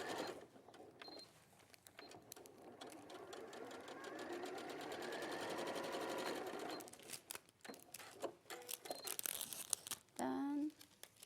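A sewing machine stitches a quarter-inch seam on a tulip tote bag, running in one steady whirring stretch through the middle, with short stop-start bursts and fabric rustling before and after.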